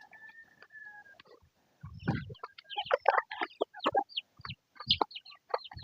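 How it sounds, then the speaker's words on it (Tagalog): Several chickens cluck and squawk close by in quick, overlapping bursts, with a faint whistle-like tone early on before the clucking picks up. "Papakain tayo ng manok."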